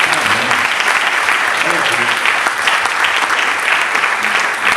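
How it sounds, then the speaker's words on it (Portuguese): Audience at a Christian youth vigil debate applauds steadily, dense clapping filling the room close and loud from start to finish, with no gaps and a few voices faintly underneath. "Você pode aplaudir o Senhor?"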